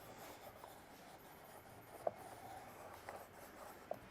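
An alcohol pad being wiped across an interior surface of a Tacoma, making a soft, steady, close rubbing sound with a couple of small ticks, faint and alone.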